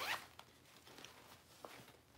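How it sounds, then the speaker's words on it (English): The zipper on a vintage Coach purse is pulled open in one quick, close rasp, followed by faint handling taps and rustles of the bag. "And then there's this center zipper."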